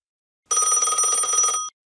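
A telephone bell rings once in a single loud, steady burst of about a second, bright and tonal, with nothing else around it.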